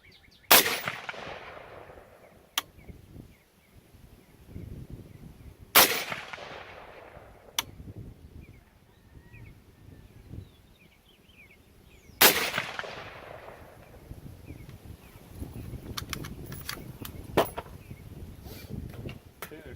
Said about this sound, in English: Got a steel plate down there that I'm shooting at right now.